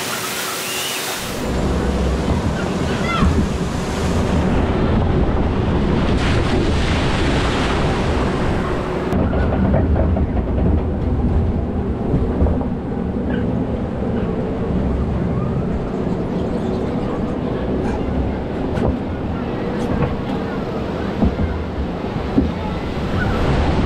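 Riding the Jungle River log flume at Drievliet family park on a 23-degree day brings a loud, continuous rush of splashing water and wind noise that swells sharply at the start, with no talk.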